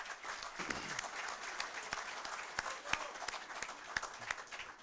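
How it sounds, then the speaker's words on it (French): Audience applause at a philosophy café evening in Haiti, a steady dense wash of many hands clapping with sharper individual claps standing out, moderately distant and sustained throughout. "Et je vous demande de vous applaudir encore ce soir pour votre présence."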